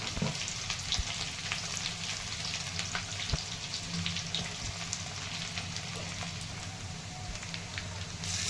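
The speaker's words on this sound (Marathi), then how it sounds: "आता हे परतून घेत आहे खोबरं कांदा सारं असा" Onion and grated coconut sautéing in a pan with curry leaves for a mixed vegetable curry of potato, peas and cauliflower, a steady soft sizzle with faint stirring scrapes throughout, no talk.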